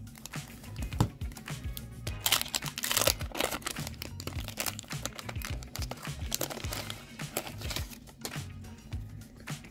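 A 1990 Donruss baseball card wax pack being opened, with loud crinkling and tearing of the wrapper in bursts, then shuffling of cards, close up with no talk.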